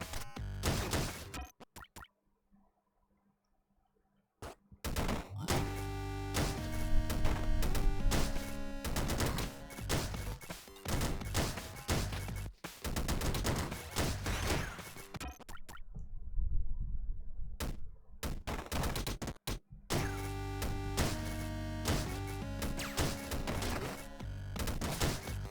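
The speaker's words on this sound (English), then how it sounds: "Honestly, the only weapon I freaking need is the machine gun." Rapid bursts of machine gun fire in the first-person shooter Deathloop, played on PlayStation 4, loud and dense through most of the stretch, with a short near-silent gap early on and brief pauses between volleys.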